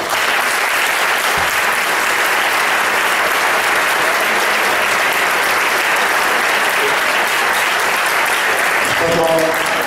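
Audience applauding at a concert by a music group, loud sustained clapping from a large crowd that fills the whole stretch without pause.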